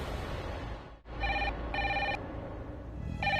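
A telephone rings at midnight in a quiet room, its electronic bell sounding in three or four short bursts separated by brief pauses.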